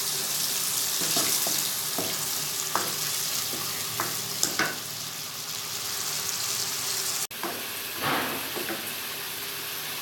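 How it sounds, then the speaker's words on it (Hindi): Potatoes fry in a curry pan, giving a steady sizzle with occasional stirring scrapes and clinks close by; no one speaks. "आलू को थोड़ा सा भून लिया मैंने"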